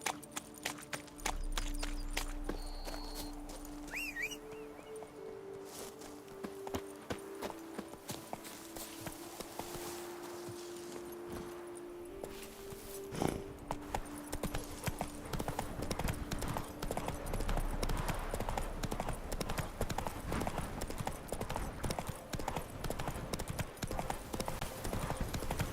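A horse gallops in The Witcher 3: Wild Hunt, its rapid clip-clop hoofbeats running steadily throughout over a constant game ambience, growing busier in the second half.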